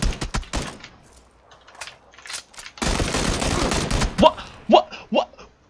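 Gunfire in a video game: sharp bursts of shots and a sustained automatic volley mid-clip, with mechanical clicks and a voice speaking between the shots.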